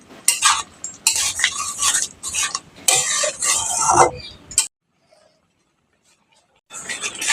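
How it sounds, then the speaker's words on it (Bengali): Fish roe with fried potatoes and garam masala is stirred in a pan, busy close scraping and clattering that stops abruptly into silence before starting again. "আমি ডিমটাকে একসাথে মিশিয়ে নেব।"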